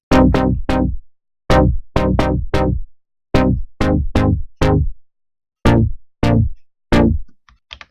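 A SAR synth pattern with FG Classico bass in FL Studio: punchy plucked notes with quick decays fall in a rhythmic sequence of short bursts separated by brief gaps, loud and upfront.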